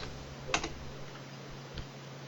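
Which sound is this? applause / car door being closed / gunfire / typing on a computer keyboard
typing on a computer keyboard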